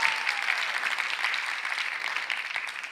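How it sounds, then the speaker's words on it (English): Applause for speakers at a TEDx event at Austin College spreads through an audience. It is dense and even, with many hands clapping at a moderate distance, and it fades slightly toward the end. "Let's have a round of applause for those speakers earlier this morning."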